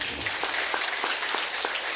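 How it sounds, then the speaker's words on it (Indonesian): A church congregation claps together in a brief, even burst of applause that fills the room with rapid, overlapping hand claps. "Tepuk tangan."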